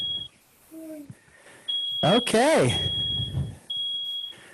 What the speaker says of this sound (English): is somebody's smoke alarm going off?